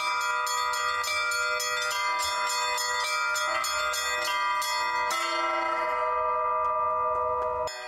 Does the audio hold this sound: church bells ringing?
yes